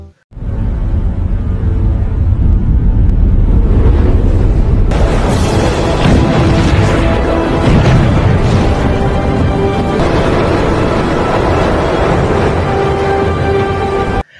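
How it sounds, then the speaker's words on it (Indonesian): Cannon fire hits a ship in a film sea battle set in historic Korea: a loud deep boom erupts and rolls into sustained crashing, rumbling destruction with dramatic music swelling underneath. "Namun tiba-tiba kapal Watanabe tertembak oleh meriam yang entah dari mana itu."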